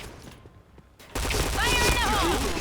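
Dense bursts of P90 gunfire in a video game erupt after a quiet second, rapid and loud, with a voice talking over the shooting.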